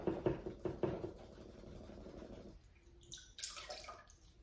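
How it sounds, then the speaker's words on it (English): A paintbrush being rinsed in a water cup after acrylic painting, with a few quick knocking taps against the container at first, then soft swishing water and light clinks, close and fairly quiet. "now I'm going to wash that brush off."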